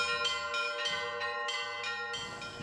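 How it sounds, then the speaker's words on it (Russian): Church bells ring out over Saint Petersburg (Leningrad) by the Neva, several bells of differing pitch struck in a steady overlapping peal, sustained and resonant, with no voices. "О чем и о ком звонят колокола города над вольной Невой?"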